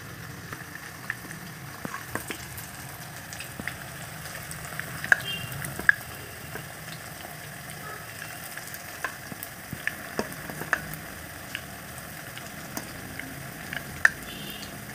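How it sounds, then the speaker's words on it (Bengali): Marinated chicken pieces fry in hot oil for a chilli chicken dish, giving a steady close sizzle with scattered pops and crackles throughout. "এবার তেল গরম হয়ে গেলে একে একে ম্যারিনেট করে রাখা চিকেন তেলের ভেতরে দিয়ে"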